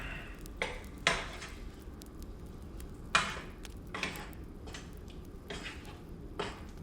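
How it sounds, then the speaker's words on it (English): A spoon scrapes and taps against a pot while stirring peanut butter banana chili con carne, giving a handful of sharp metallic clinks spaced irregularly over a low, quiet background. Nobody speaks. "Just go ahead and stir it up."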